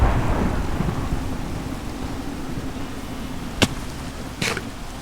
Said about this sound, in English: There is a thunderstorm, but I can't stop working.